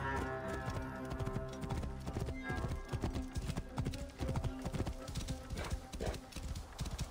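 Steady clip-clop of horse hooves trotting at a quick, regular rhythm in the video game Assassin's Creed Origins, close and prominent, with layered background game sounds and a brief whinny-like tone.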